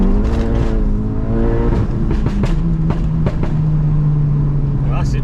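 A Stage 3 Volkswagen Golf GTI engine revs hard with traction control off, a loud rising drone that settles into a steady high note as the wheels spin, with sharp bursts and crackles over it, recorded from inside the cabin.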